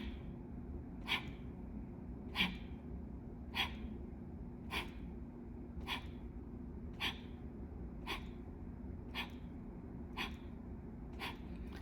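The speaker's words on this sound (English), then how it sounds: "in Kapalabhati, it's a normal inhale and a forced exhale" Kapalabhati yogic breathing: about ten sharp, forced nasal exhales in a steady rhythm, each a short close-up puff of air with quiet breathing in between.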